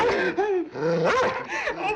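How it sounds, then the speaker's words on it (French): A dog indoors in a French drama scene gives close, loud, continuous barks mixed with growling and whimpering noises over about two seconds. "Fais sortir ce chien, fais-le sortir."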